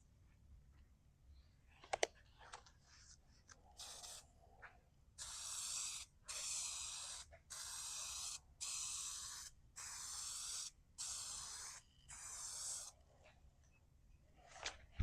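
Short bursts of paint test-sprayed in light coats onto a part, seven or eight hissing blasts about a second each with brief gaps, close and fairly loud, preceded by a few clicks of the spray gun, with no talking.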